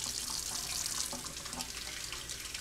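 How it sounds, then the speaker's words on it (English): Warm tap water runs steadily over a glass-etching stencil in a sink, a close, unbroken splashing hiss with no talking. "So wash your stencil under warm tap water."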